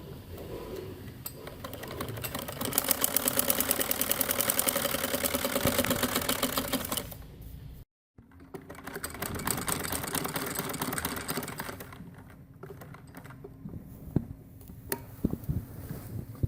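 A sewing machine stitches churidar pajama fabric in a long, steady run of fast, even ticking, near and moderately loud. It stops for a moment, then continues in shorter, lighter stretches.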